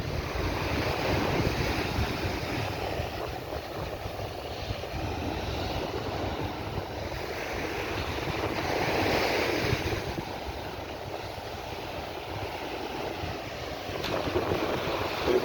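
Sea waves wash steadily at Hot Pot on Brandons Beach, Barbados, where warm water flows out near a power substation; a soft continuous surf hiss rises and falls gently, with light wind across the microphone.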